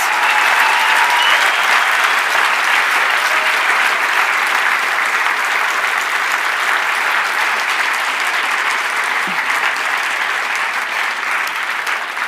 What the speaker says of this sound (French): je pense qu'on peut vraiment chaleureusement applaudir ces incroyables 14 candidats et candidates.